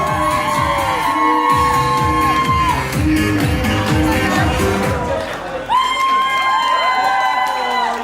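A summer festival crowd at a dance contest cheers and claps loudly with whoops and shouts, while music with a bass beat and sustained tones plays underneath and a voice talks over it.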